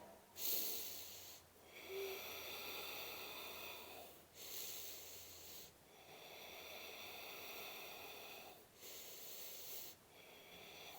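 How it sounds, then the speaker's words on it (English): Slow, deep breaths during a beginners hatha yoga flow, a steady rhythm of long breathy inhales and exhales repeating about every two seconds, close and fairly quiet, with no talking. "Breathing deeply here."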